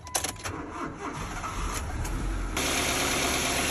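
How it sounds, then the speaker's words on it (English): Car engine on jump leads cranks with a short rhythmic churn, then catches and settles into a steady, even idle running close by. "Give her a crank."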